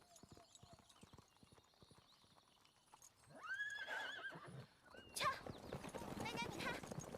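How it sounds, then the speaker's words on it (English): Horses in a video game clip-clop at a gallop and whinny, hooves steady then louder and busier toward the end, with chatter and music over them. "they're also riding horses"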